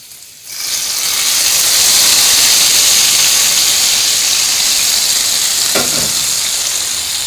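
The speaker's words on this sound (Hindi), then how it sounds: "अब इसमें तड़का लगाने लगे हैं अभी हम" Loud, steady sizzling of tempering spices dropped into hot oil for kadhi pakora, a continuous crackling hiss from start to end with a brief clatter near the end.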